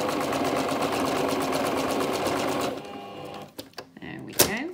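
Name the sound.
sewing machine stitching a straight seam on a glasses case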